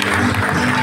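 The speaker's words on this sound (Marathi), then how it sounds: "जरा जोरदार टाळ्या वाजवू देत सर्वच पाहुण्यांसाठी आणि मान्यवरांसाठी." An audience at an award ceremony claps in a brief, dense burst of applause, fairly loud and close, with no distinct voices over it.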